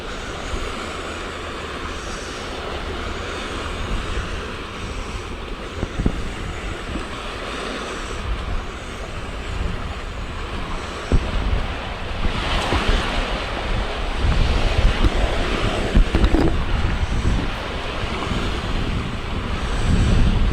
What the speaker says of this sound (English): See the waves washing the shore up ahead of us.